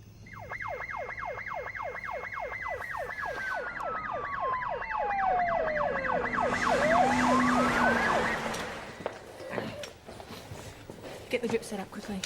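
Ambulance siren wailing in a police drama scene, a loud two-tone sweeping wail that rises and falls steadily, then slides down in pitch as the vehicle passes close by, with traffic and street noise underneath.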